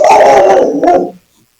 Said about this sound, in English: Sorry, that was Margie's dog.